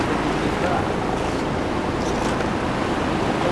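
Floodwater rushes through the Wadi al-Aqiq valley in Medina, a loud continuous broadband roar like a fast river, steady throughout with voices nearby.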